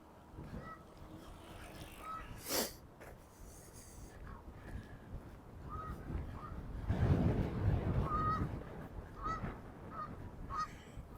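Geese honking on a frozen lake in Regina in early spring, repeated short honks scattered through the scene at moderate distance over a faint outdoor background, with a louder rustling passage in the middle.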